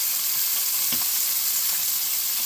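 Butter sizzling and frying in a hot pan, a steady loud hiss with faint crackles and one brief stir or clink, heard close with no talking.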